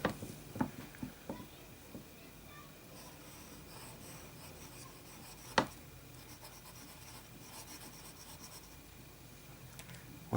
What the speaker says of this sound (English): Alright, then we should do some medium writing.